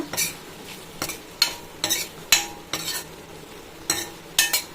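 Grated coconut being sautéed in a pan for chutney, with a spatula scraping and stirring in repeated strokes over a soft sizzle, close and clear with no talking.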